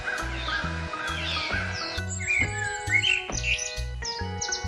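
A common myna gives a series of short chirping and squawking calls, sharper and busier in the second half, set against looping background music.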